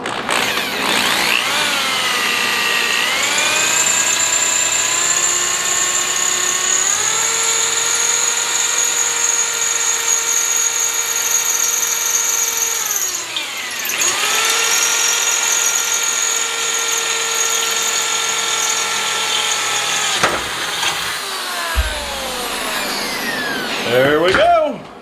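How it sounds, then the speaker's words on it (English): A power drill whines steadily at high pitch as it bores into metal, its tone dipping and recovering under load, close and loud throughout. "something that I hate doing, and that is hand drilling a hole"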